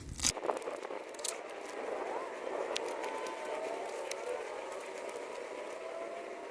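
Masking tape peeling away from a freshly painted motorcycle chain cover in a steady, sticky scraping crackle that runs for several seconds, close by, with a few sharper ticks near the start.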